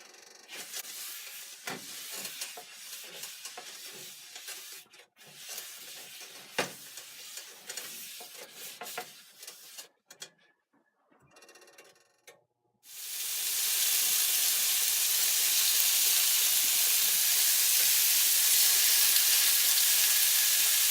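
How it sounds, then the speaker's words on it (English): Burger patties hit a ripping hot skillet after a quiet pause, setting off a loud, steady, close sizzle that hisses on without a break. "So when I put them on our ripping hot skillet, we'll get a nice crust on each side."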